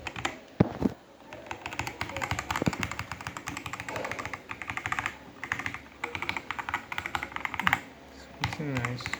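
Clattery typing on a plastic-bodied Machenike K500A-B84 mechanical keyboard with rubbery end surfaces, a dense run of close, crisp keystrokes with a few brief pauses.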